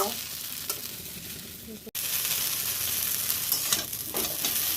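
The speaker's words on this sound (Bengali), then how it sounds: "আমি কিন্তু খুব ভালো করে ভেজে নিচ্ছি" Vegetable chowmein stir-fries in a hot pan, a continuous loud sizzle with spatula scrapes and tosses, briefly cut by a sharp break before the frying hiss resumes.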